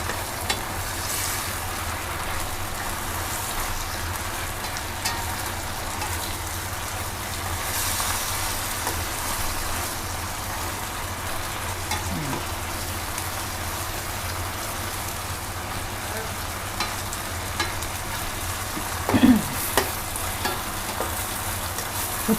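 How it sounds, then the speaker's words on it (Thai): Tofu stir-fried with holy basil in a wok for a vegetarian dish gives a steady, loud sizzle with the scrape of stirring throughout, and brief clatters of utensil against metal. "ผัดมาผัดทุกวัน ผัดทุกวัน เพียงแต่เราไม่ใส่เนื้อหมู ฉะนั้นเราใส่ นี่ค่ะ เราใส่เต้าหู้แทน"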